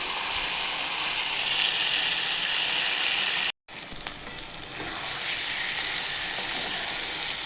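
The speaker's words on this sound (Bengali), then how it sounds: "দেখো চিকেনটা একটু ভাজা ভাজা হয়ে এসেছে, আরও ভাজতে হবে।" Chicken pieces frying in a pan for a chicken curry, a loud continuous hiss and crackle with some stirring, broken by a brief silent gap midway before the sizzle resumes, no speech.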